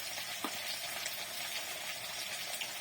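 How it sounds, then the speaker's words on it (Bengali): Potatoes fry in a pan with a steady, hissing sizzle and a few faint stirring knocks, close and continuous. "দিয়ে আলুটা খুব ভালো করে ভেজে নেব এদিকে আলুটা ভাজতে ভাজতে"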